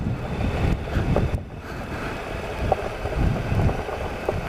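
A Triumph Explorer motorcycle engine drones up close, low and rumbling with a slight wavering pitch, running continuously without any voices.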